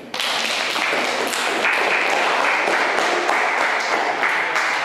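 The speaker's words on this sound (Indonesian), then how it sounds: "Kita beri tepuk tangan lagi." Steady classroom applause from a group of students fills the room, a dense continuous patter of many hands clapping, fairly loud and close throughout.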